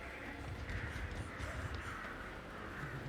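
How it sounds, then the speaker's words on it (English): Crows cawing in a game-style outdoor scene, a few harsh calls repeating over a low rumbling background, moderately distant and fairly quiet. "Man, these crows are real noisy"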